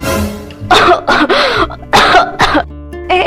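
A woman coughs hard and repeatedly, choking on her own saliva, with loud, close, strained bursts in several clusters and brief pauses between them.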